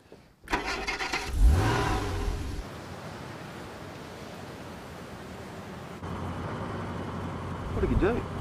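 A rundown car's engine cranks and catches, revs briefly, then settles into a steady idle before rising again toward the end, with voices speaking over it.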